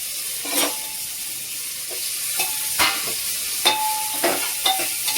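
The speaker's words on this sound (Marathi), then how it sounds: "1 चमचा तूप घालायचा आहे आणि ह्या सगळ्या भाज्या आपण ह्यात परतून घ्यायचे" Vegetables sautéing in a spoonful of ghee for khichdi, a soft constant sizzle broken by several sharp spoon scrapes and clinks against the pan, close and fairly quiet.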